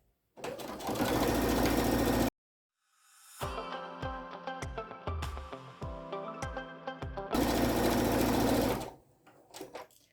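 A sewing machine stitches a fabric welding cap in close, loud bursts: a fast whirring run, a short pause, a slower stretch of distinct rhythmic needle knocks, then another fast run that winds down.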